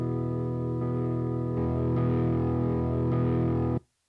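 A distorted electric guitar played through the Friedman amp model of an Axe-Fx III, heavy sustained chords re-struck in a steady rhythm and ringing loud and thick before being cut off abruptly to silence.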